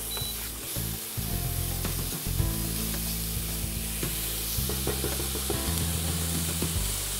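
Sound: chopped shallots sweating in a pan

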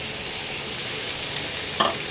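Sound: onion and chopped tomato frying in a pan

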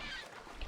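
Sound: birds calling in the video game Assassin's Creed Odyssey

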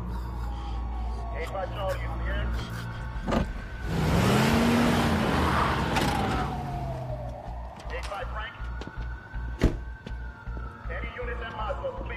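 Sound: car being moved

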